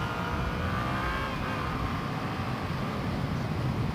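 A 2016 Yamaha FZ-07/MT-07 motorcycle engine drones steadily, its revs shifting as it downshifts, loud and continuous with a broad rushing wind-and-road noise around it.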